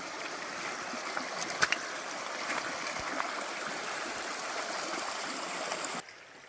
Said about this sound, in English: Here's the creek that helped fuel Golden and all of its mining operations.